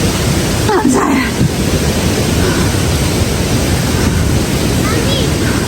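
A waterfall in Karura Forest, Nairobi, roars as a steady, loud broadband rush that fills the whole clip, with a brief voice cutting in near the start.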